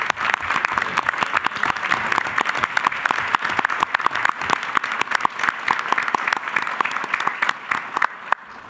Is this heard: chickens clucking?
no